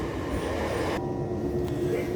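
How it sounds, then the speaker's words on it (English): Trains at a railway station, a steady broad rumble of rolling stock and platform noise that holds at an even level throughout, with a brief shift in the hiss partway through. "Is that 2 trains? Yeah. This is my train."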